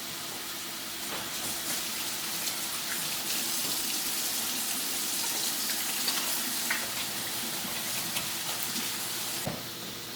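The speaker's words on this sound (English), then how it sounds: "wash your hands" Tap water runs steadily into a sink as hands are washed after cutting chillies, a continuous close hissing splash with small irregular splatters, no voices.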